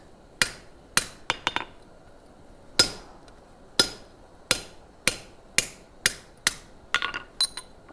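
A hammer strikes hot metal on an anvil during blacksmith forging, about a dozen sharp ringing blows, some in quick clusters and others spaced about a second apart, loud and close.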